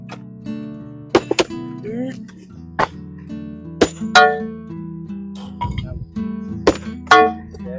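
Decorative stone is struck with a hammer, giving a series of sharp, irregular clanging and cracking hits, close and loud, while people talk throughout.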